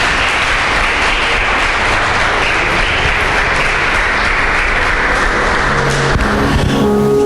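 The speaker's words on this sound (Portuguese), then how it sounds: "Você pode aplaudir a Deus por isso?" A church congregation gives loud, sustained applause, a dense wash of clapping that runs the whole clip with no break and no voices over it.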